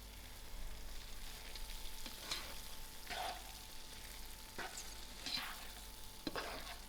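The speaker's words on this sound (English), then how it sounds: "I'll give this a mix and see." Lamb mince and rice stirred in a pan, a soft, low sizzle with a few scraping strokes of the spoon that come and go, fairly quiet and close.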